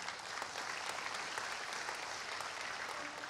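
A church congregation applauds during an online worship service, with dense, steady clapping that holds at an even level throughout.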